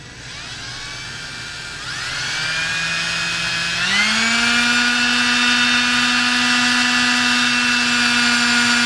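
A power drill spins a scrub brush in soapy water, giving a steady high motor whine that climbs in pitch twice as it speeds up, then holds a loud, even drone with no talking.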